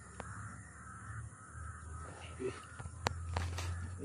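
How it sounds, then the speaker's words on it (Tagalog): Crows caw outdoors near a sacred well, a few scattered distant calls over faint ambient noise, with no clear speech. "Kanina pa mga uwak dito."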